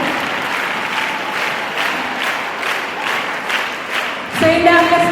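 Applause from a school annual day audience welcomes a guest to the stage, a dense sustained clapping that carries on evenly before a brief louder burst near the end.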